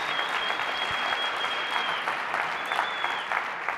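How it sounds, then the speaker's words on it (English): An audience at an entrepreneurship pitch competition claps in a sustained, dense round of applause, moderately loud and steady throughout, with a faint high tone running over it. "let's have another huge round of applause for all the pitches that we heard tonight"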